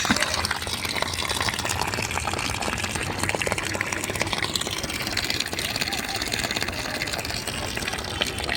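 A 12V DC 500 psi pressure pump sprays water in a steady, loud, broadband hiss and gush that runs unbroken throughout, with a motor drone beneath and voices talking over it.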